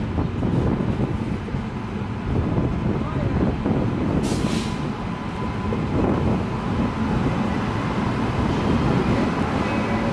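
A late-running high-speed express hauled by a WAP7 electric locomotive rolls along between Vijayawada, Gudur and Renigunta, a steady loud rumble and rattle of coaches heard from onboard, with a brief hiss midway.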